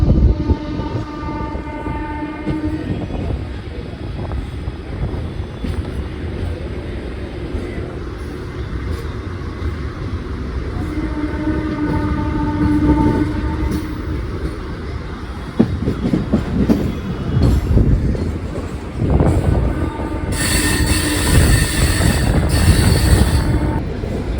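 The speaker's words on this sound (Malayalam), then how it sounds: "കൽക്കരി കൊണ്ടുപോകുന്നു ഒരു ബോക്സ് ആൻഡ് ഫ്രൈറ്റ്." A heavy freight train of coal-carrying box wagons rumbles past steadily with rhythmic wheel clatter and metallic squeals, growing louder and harsher toward the end as the cars roll by close.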